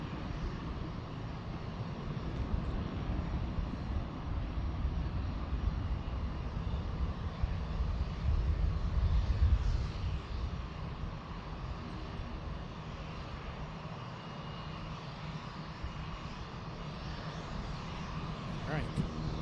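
An airplane flies over Boeing Field with a broad, steady engine roar that swells and then slowly fades, loud and sustained, with a rumbling low end.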